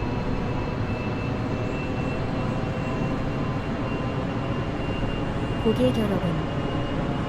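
Korean 311000 series second-generation commuter train in old livery running on an evening local service toward Incheon, a steady broad rumble throughout with a brief announcement voice over it.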